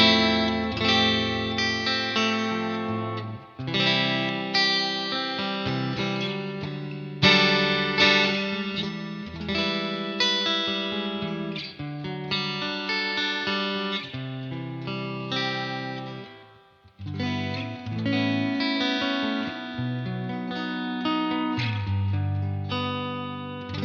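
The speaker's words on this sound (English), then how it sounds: "let's put some of that reverb up and see." An electric guitar played through a UA Dream '65 Fender Deluxe Reverb-style amp with the spring reverb turned up: sustained, shimmering chords and notes ring out with a lush tail, loud and continuous with no talking.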